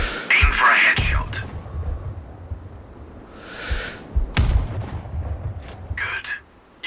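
Sniper rifle shots in the video game Sniper Ghost Warrior Contracts: sharp booming reports near 1 s and 4.5 s with echoing tails, mixed with game ambience and a voice talking.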